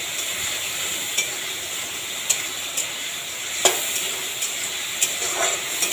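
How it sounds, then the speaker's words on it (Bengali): Spice masala fries in a pan for a begun bora curry, a steady close sizzle with scattered clicks and scrapes of stirring, no voices. "আমি একটু মশলাটাকে একটু ভালো করে কষিয়ে নেব।"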